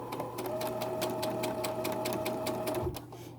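Sewing machine stitching a rolled hem with a rolled hem foot, a steady fast whirring run of even needle strokes lasting about three seconds, then stopping.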